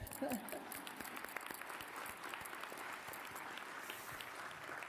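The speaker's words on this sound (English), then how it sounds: "let's give them a round of applause, but you did, so do it again" Steady applause from a crowd, many hands clapping continuously with a brief louder burst at the start.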